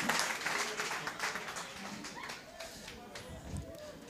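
Audience applause at a workshop pitching challenge, a dense wash of clapping that fades somewhat over a few seconds, with voices talking over it.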